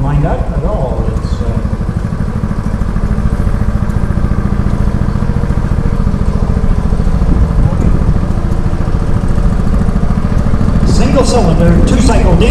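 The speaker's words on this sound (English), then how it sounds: "single-cylinder, two-cycle diesel engine" A single-cylinder two-cycle diesel engine runs at a steam show with a loud, steady, close chugging throb and clatter throughout, and voices are heard over it.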